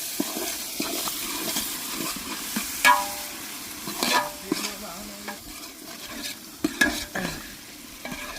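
Chicken and field bean curry stirred in a pan, a steady frying sizzle with repeated spoon scrapes and clanks against the pan, close and fairly loud, no talking.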